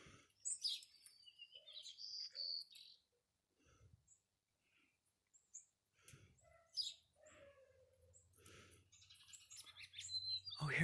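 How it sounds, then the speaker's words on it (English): Pygmy nuthatches give short, high chirps and tweets in scattered bursts at close range. The calls are separated by quiet gaps, and a faint low hum comes in near the end. "These little sweethearts are pygmy nut hatches."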